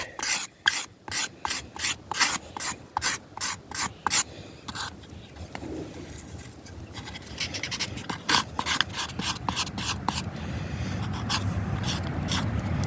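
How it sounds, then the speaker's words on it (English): A carved wooden scraper rasps along yucca plant leaves to strip out the fibers, making rapid repeated close scraping strokes in quick rhythmic runs, then a steadier rougher grinding toward the end. "The stuff towards the stem is harder to scrape"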